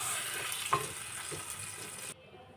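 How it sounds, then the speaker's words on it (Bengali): Chicken stirred in a pot for chicken handi, a steady sizzling fry with soft scraping of the spoon, fairly quiet and close, with no voices, cutting off near the end. "একটু নেড়ে চেড়ে দিব।"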